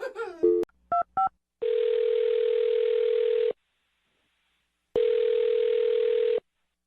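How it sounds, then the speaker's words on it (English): Short electronic keypad beeps followed by two long, steady telephone ringback tones separated by a pause, close and clear. "I'm going to dial her phone number right now."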